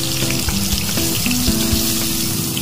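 Garlic sautéing in a hot pan for chicken liver and gizzard bopis: steady, loud close sizzling and crackling oil throughout, with small scrapes of stirring.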